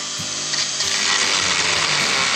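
A tool enlarges a hole in a mini 4WD chassis part with a steady, close, gritty whirring and grinding that runs unbroken from start to finish.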